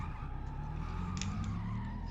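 Tyres of a Nissan 180SX RPS13 skidding as the car drifts in a driving video game, a steady screech held over a continuous engine drone with a few brief high squeals.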